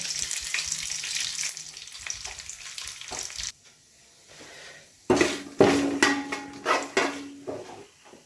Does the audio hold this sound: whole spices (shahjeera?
yes